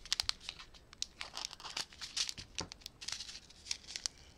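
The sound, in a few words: cutting open plastic bags of diamond painting kits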